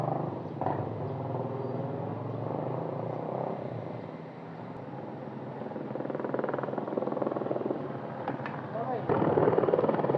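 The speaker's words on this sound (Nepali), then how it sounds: "ए हेलिकप्टर ओए कस्तो मजाले बसिरा" A helicopter's steady rotor drone and engine hum fill the scene continuously, fairly close, with a voice speaking briefly over it.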